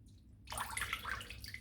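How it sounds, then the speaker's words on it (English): Water is poured onto a hand, a soft, faint splashing trickle that begins after a brief silence and continues for about a second. "I'm going to pour this water onto my hand"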